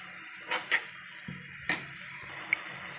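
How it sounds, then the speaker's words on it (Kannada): Carrots cooking in a pan with sugar being stirred in, a quiet steady sizzle with a few short utensil scrapes and clicks against the pan, close and alone. "ಈಗ ಸಕ್ಕರೆ ಎಲ್ಲ ಕ್ಲೀನಾಗಿ ಎಲ್ಲ ಕಡೆನೂ ಸ್ಟಿರ್ ಮಾಡಿದ್ದೀನಿ"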